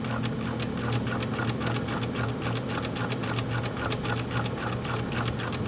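A cover stitch sewing machine stitching fleece with cover hem needles, running fast in a steady, rapid mechanical chatter with a low motor hum, heard close and continuous without speech.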